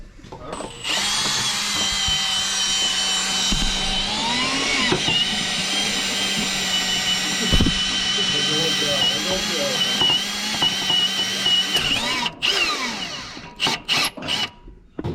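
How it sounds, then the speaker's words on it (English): A power drill whines continuously for over ten seconds, its pitch shifting as it bites into metal on a 6.7L Ford F-450 Power Stroke during a pusher compound kit install, then cuts out in short bursts near the end. "So I'm gonna get to drilling."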